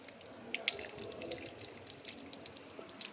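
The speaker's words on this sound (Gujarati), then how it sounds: "પહાડનો પાણી અહીં આવી રહ્યું છે." Natural mountain spring water at a hillside temple in Rajasthan trickles and drips softly and steadily, faint and close, with small splashes scattered throughout and no voices.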